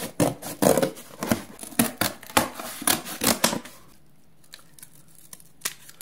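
Paper being cut with scissors to a bone-like template shape, a run of close, crisp snips and rustles for about four seconds, then near quiet with a few faint taps.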